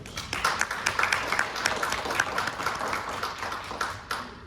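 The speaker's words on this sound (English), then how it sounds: "How about a quick round of applause for our today's sponsors?" An audience at a legislative update gives a brief round of applause, dense steady clapping from many hands that holds for several seconds and then tapers off.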